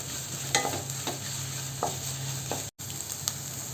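Drumstick leaves and egg stir-fried in a pan for a Kerala thoran, a steady close sizzle with several scraping stirs of a spatula and a brief dropout near the end, no talking.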